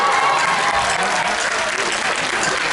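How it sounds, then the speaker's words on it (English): Students at a school interclass patriotic quiz competition applaud the teams, a dense, sustained wash of many hands clapping at even loudness throughout, with no talk over it. "A very huge round of applause for all the teams."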